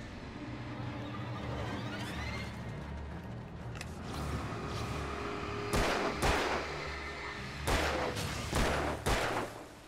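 Gunshots in the Alan Wake video game ring out as sharp broadband cracks, a few isolated at first and then bursts around the middle and end, over a steady low ambient rumble and scattered creaks.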